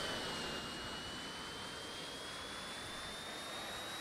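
Steady jet-like engine whine from a model aircraft in an RC flight simulator game, continuous and even, with a slowly rising high tone and no voices.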